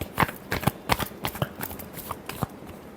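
A tarot deck being shuffled by hand in a quiet room, with a series of crisp, papery riffles and slaps at an uneven rhythm, close and moderately loud.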